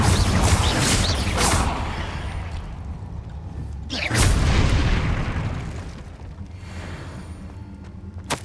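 Confringo blast spell from the Hogwarts Legacy video game, heavy booming explosions with rumbling low end and crackling debris, one big blast near the start and another around the middle, fading into rumbling tails.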